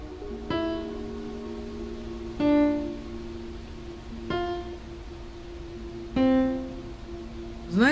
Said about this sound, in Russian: Это звуки расстроенного пианино.